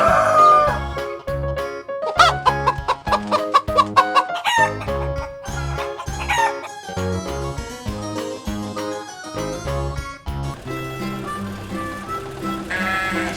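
Chickens cluck and a rooster crows in a farmyard over a bright, busy musical backing that dominates the mix, the bird calls rising through it at moderate loudness.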